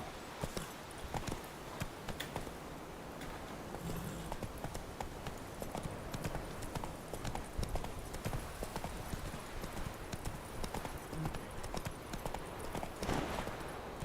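Horse hooves clip-clopping steadily in The Witcher 3 video game, a continuous rhythmic stream of hoof beats at moderate volume over soft ambient game sound.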